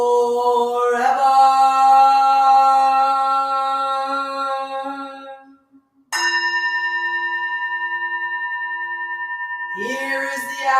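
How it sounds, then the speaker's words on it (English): A Buddhist temple bell is struck, its deep resonant tone ringing out and slowly fading before a second clear strike rings and sustains, then another strike begins at the end; no talking. "Here is the after sound of the bell"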